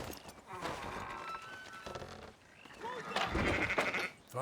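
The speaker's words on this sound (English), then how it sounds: "Fine sheep." Sheep bleat in Red Dead Redemption 2 while being herded into a pen, with several wavering calls spread across the scene, footsteps and voices talking over them.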